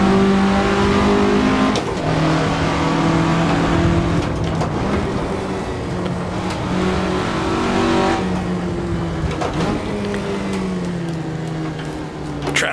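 A 1967 Russell Alexis Mk.14 Formula Ford engine in the video game Assetto Corsa revs loud and close throughout, pitch climbing through gears and dropping on shifts, with steady tire and wind noise underneath.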